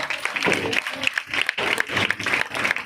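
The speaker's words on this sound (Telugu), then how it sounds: "తండ్రి అయిన దేవునికి రెండు చేతుల పైకి ఎత్తి గట్టిగా చప్పట్లు కొట్టి గణపరుస్తాం" A church congregation claps loudly with both hands raised in praise of God at a birthday service, keeping a steady, rapid rhythm of dense claps close by. Faint voices mix in beneath the clapping.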